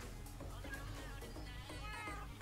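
Cats meowing in the Minecraft video game: a string of close, clear meows follows in quick succession over a steady game background.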